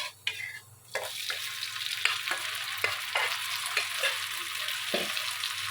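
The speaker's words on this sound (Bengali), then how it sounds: "এখন দিয়ে দিব চিংড়ি মাছগুলো" Shrimp and onions fry in oil for a shrimp and okra bhuna, a soft continuous sizzle broken by repeated spatula scrapes and clinks against the pan.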